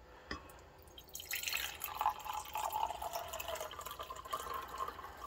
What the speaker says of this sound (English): Pour that off into there.